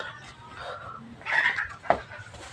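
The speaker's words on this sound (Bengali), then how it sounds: "এই যে মুরগি ডিম পারছে।" A hen clucks while laying eggs in a household coop, a few short bursts of clucking close by with a sharper squawk near the end, over a quiet background.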